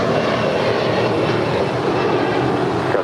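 Steady, loud broadband roar of a United airliner taking off from runway 25 right at LAX, a continuous rumbling rush that holds level throughout with no voices.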